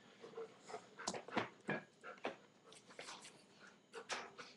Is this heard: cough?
no